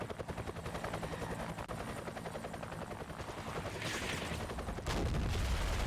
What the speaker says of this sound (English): Shoot that helicopter down, please.